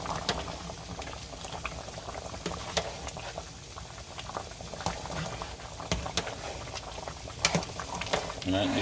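Jamaican curry goat bubbles and pops steadily in a pot, with a continuous boiling patter broken by sharp spoon knocks against the pot.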